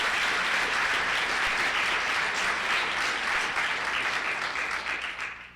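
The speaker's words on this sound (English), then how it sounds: "A special hand for Rachel" An audience at a Saskatoon Change Makers event applauds for the event organizer, a dense and steady wash of clapping that fades out toward the end.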